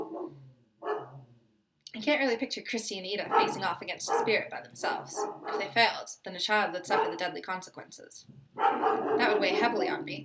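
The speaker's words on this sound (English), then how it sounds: "I apologize if you can hear the barking of my roommate's dogs." Dogs bark in another room, with a few yips and bow-wows under a person speaking steadily through most of the stretch.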